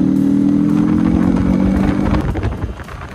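Motorcycles from a riding group pull up, their engines loud and rumbling nearby, then the sound eases and fades over about three seconds. No one speaks over the noise.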